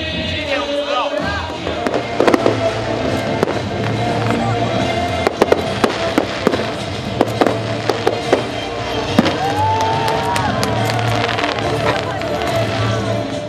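High-altitude fireworks boom and crackle at the closing light show of a hot air balloon festival in Taitung, with sharp scattered bangs over a continuous crowd and music wash. People talk throughout.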